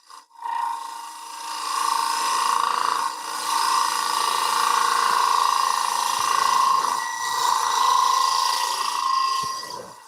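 A woodturning gouge cuts the face-grain interior of a wooden bowl spinning on a lathe, giving a continuous, close scraping hiss with a steady whine that swells and eases as the tool rubs back and forth.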